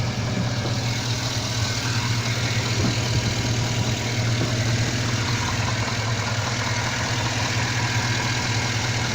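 A 2009 Chevrolet Silverado LT Z71 pickup truck engine idles steadily with a low, even hum, close by and continuous, with no voices.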